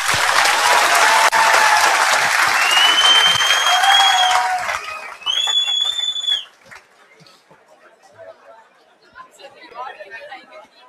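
A classroom audience at a mimicry show in Jaipur claps loudly with chatter and a few whistles for about five seconds, then the noise drops to faint scattered sounds and murmurs.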